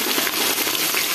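Onions for chicken biryani fry steadily in plenty of oil, giving a dense, even hiss and sizzle with no pauses or voices.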